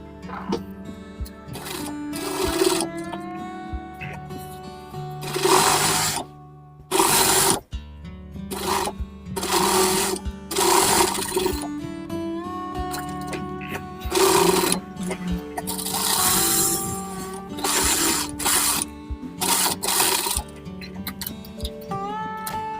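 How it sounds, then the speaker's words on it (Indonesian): Sewing machine stitching a shirt collar in a tailor's workshop, running in quick rattling bursts that stop and start, with short pauses and some handling noise between runs. "setelah ini kita jahit bagian sini, ini untuk lebih kuat"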